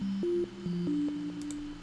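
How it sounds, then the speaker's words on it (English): A synthesized sine wave built from only 24 samples plays a short run of pure, steady electronic tones that step between a few pitches, clean and alone. "This is a sine wave with 24 samples."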